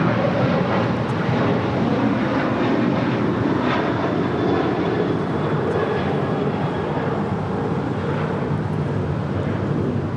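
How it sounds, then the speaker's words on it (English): An American Airlines Boeing 737-800 takes off from LAX, a steady broadband jet roar holding loud and continuous throughout. "2980 taking off to Chicago O'Hare on a 737-800."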